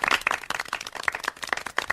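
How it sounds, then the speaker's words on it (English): A crowd applauds with dense, rapid clapping that keeps going throughout. No one speaks. "He's getting the round of applause."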